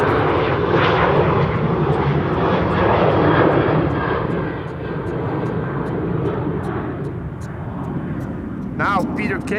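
A KLM Boeing 747 departs Schiphol on runway 09 with a loud, rumbling jet roar that swells and then eases slightly, while a person talks over it.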